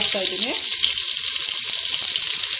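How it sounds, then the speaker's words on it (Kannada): Onions sizzle steadily in a hot pan for an avarekai tomato bath, a loud, continuous close-up frying hiss that lasts throughout, with a brief faint voice at the start. "ಈಗ ಈರುಳ್ಳಿ ಹಾಕ್ಕೊಂಡು ಸ್ವಲ್ಪ ಗೋಲ್ಡನ್ ಬ್ರೌನ್ ಬರೋವರೆಗೂ ಇದನ್ನು ಫ್ರೈ ಮಾಡ್ಕೋಬೇಕು"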